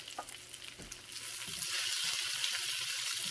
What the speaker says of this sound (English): Should take you less than 5 minutes to get these caramelized like this.